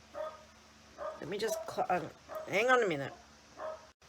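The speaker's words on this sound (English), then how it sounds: "Sorry, that's my dog." A pet dog barks and yips in short excited bursts, some rising into whiny howls, close to the microphone and mixed with a person speaking.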